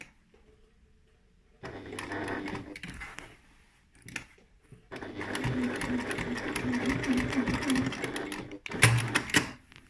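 A sewing machine stitches a lined tote bag in close bursts, with a short run, a pause, then a longer steady stretch of rapid stitching and a brief clatter near the end.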